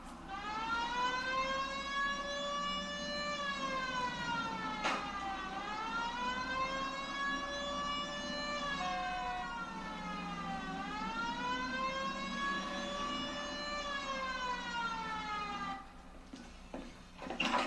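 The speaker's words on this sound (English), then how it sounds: "Hit the siren." A police car siren in the video game L.A. Noire wails, sweeping up and down in long, steady cycles, loud and continuous, then cuts off abruptly near the end.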